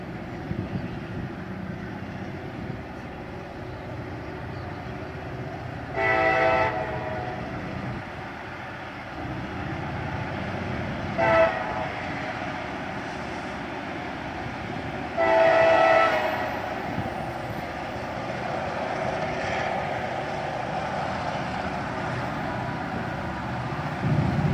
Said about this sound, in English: He's working hard to accelerate, as I believe he was stopped in the siding